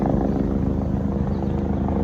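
A helicopter flying by, its rotor giving a steady low rhythmic thumping and engine drone, fairly loud and close, continuous for the whole stretch with no talking.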